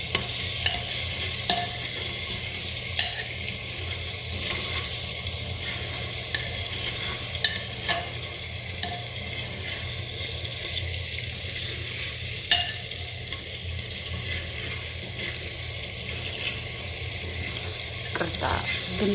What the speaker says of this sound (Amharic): ቅርታ ድምፅ አለው ይሄ ማንኪያው ሳማስል